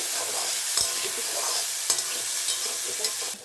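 Mung dal frying in a hot pan while being stirred, a steady close sizzle broken by a few sharp scraping strokes of the spoon, with no talking.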